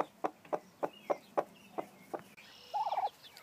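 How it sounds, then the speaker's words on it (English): A broody hen clucks close by in a rhythmic series of short, evenly spaced clucks, followed by a brief higher drawn-out call at the end. "You'll always know a broody hen when you meet one. She is so puffed up and ready to hatch some eggs."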